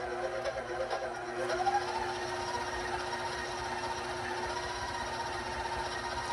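An electric mixer churns chopped butter into cookie wafer dough, a steady whirring hum that runs on evenly with a slight rise in pitch near the start, close by and alone.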